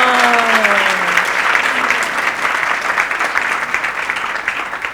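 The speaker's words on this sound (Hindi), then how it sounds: "अरे तालियां" Audience at a religious satsang gathering bursts into sustained clapping, loud and even throughout, with a brief voice trailing off under it at the start.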